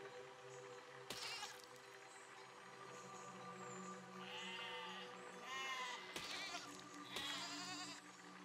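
Sheep bleat repeatedly in the physics building game Besiege, a few wavering calls spread across the stretch over a steady background of game music and ambience.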